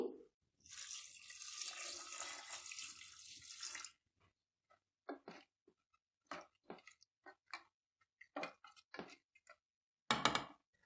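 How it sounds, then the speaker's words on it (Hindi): Two glasses of water pour steadily into a pot of spiced beef karahi for a few seconds, then stop, followed by scattered quiet clinks and taps of kitchen activity. "अब हम डाल लेंगे 2 गिलास पानी"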